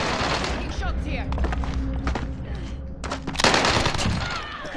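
Gunfire in a PS4 multiplayer shooter: rapid bursts of automatic fire and sharp shots crackle loudly and near, with a brief lull before another heavy volley, continuing under a player's talk.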